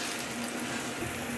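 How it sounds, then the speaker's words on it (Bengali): Warmed water poured into a pan of rohu fish curry with moringa leaves, a brief steady gushing splash, close and continuous. "পানিটা দিয়ে দেব।"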